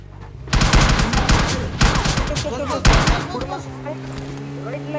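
Bursts of rapid gunfire from the game PUBG Lite crack in three short volleys, loud and close, with a low engine-like hum and brief voices underneath.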